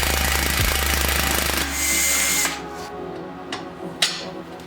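An impact gun hammers on a Nissan Rogue axle with a loud, close rattling burst for about two seconds, then stops, leaving metallic clanks and handling knocks.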